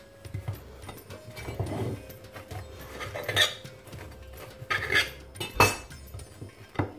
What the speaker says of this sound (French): Je vais vous en couper une.